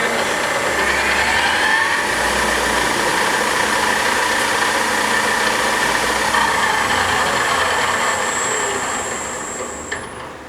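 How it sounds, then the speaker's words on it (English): A 2008 South Western Industries TRL1840SX CNC lathe spindle spins at its top speed of 850 rpm in low range, producing a loud, steady mechanical whine and hum that eases off near the end. "And then we'll go to max spindle speed 850 in low range."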